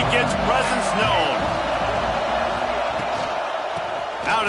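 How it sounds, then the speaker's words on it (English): Football stadium crowd cheering and roaring, a dense, loud sustained wall of noise with scattered whoops, heard under an excited commentator's voice. "This crowd ready to make its presence known."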